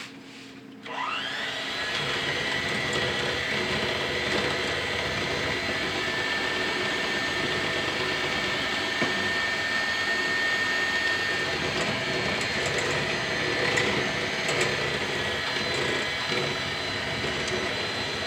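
A steady electric mixer whirs loud and continuous through cheesecake batter made with plum and lime, starting abruptly after a brief quiet moment and running on without pause.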